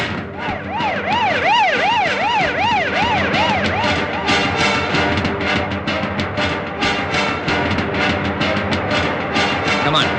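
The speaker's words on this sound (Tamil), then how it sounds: "இந்த ஆம்புலன்ஸ் அடிக்கடி வருதே" An ambulance siren wails loudly in a city street, its rising and falling tone repeating steadily before blending into heavy traffic noise and horns as it passes.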